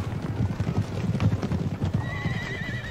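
Cavalry horses in Empire: Total War with a steady rush of many hooves clip-clopping close by, a horse whinnying over the trampling near the end.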